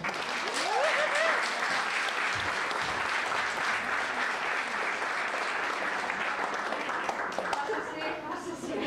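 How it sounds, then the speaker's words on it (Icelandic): Audience applause at a poetry slam, continuous dense clapping throughout from a crowd in a library event, loud and sustained with some cheering mixed in. "Við skulum gera brjáluð fagnaðarlæti fyrir Sigurð Ingólfsson með atriði"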